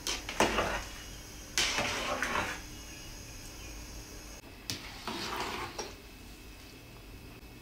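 Rice is stirred in a pot while Hyderabadi dum biryani is made, giving a few separate bursts of scraping and clinking from utensil against cookware, close and fairly quiet, with no talk.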